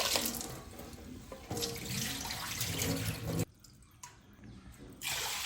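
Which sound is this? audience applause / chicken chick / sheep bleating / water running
water running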